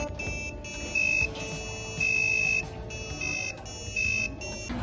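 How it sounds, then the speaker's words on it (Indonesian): A small electronic buzzer on a lab board plays a programmed melody of bright tones, each held briefly with short pauses between notes, at moderate loudness with no speech. "berikut hasil pengerjaan buzzer"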